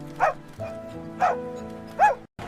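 Street dogs bark three times at a steady pace, fairly close, with a low tonal hum underneath.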